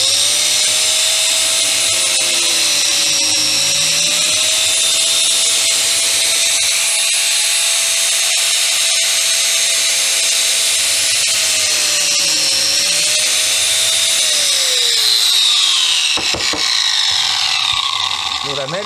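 Parkside PFDF 900 A1 biscuit joiner running and plunging into wood to cut slots, a loud high-pitched steady whine with a small dip in tone as it bites, then spinning down at the end.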